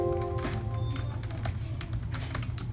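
Keys clack steadily on the compact keyboard of an ASUS E203MAH budget laptop, a quick irregular patter of close taps over a constant low hum.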